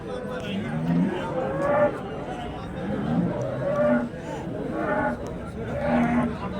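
Punganur cows and calves up for sale on a farm low intermittently, several moos rising out of a steady background murmur, with people talking nearby throughout.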